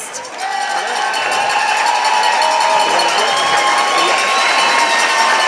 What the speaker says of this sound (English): Let's give one more big round of applause for Deb and Forrest.